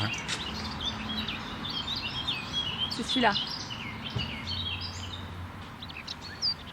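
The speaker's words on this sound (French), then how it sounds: "C'était une fauvette à tête noire." A Eurasian blackcap sings in Paris during lockdown, faint high warbling phrases drifting over background hum, with a person talking briefly in the middle.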